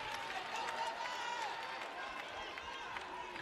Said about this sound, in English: Crowd still buzzing from the Nuttall dunk.